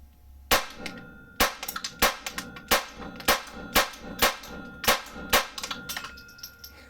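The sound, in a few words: Ruger Mark IV 22LR pistol with Volquartsen kit firing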